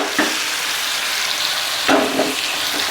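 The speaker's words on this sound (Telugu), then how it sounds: "ఎండి చేపలు కూడా వేపుకోవాలి" Dried fish fry in hot oil, a steady close hiss of sizzling broken by a couple of sharp stirring scrapes.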